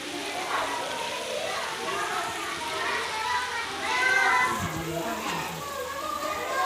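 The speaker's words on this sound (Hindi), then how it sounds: "भाई बारिश जो है वो तेज़ आ चुकी है अभी।" Heavy morning rain pours down outside a house in a steady, dense hiss, while children's voices play and chatter nearby over it throughout.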